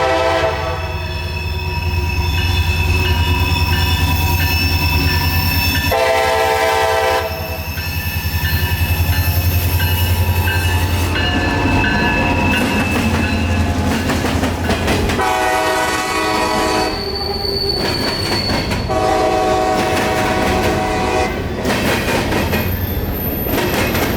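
A local freight train passes the Plant City siding in Florida on a hot day, loud and close, with long blasts of its horn, rolling wheel clatter and squealing steel, continuous throughout without talk.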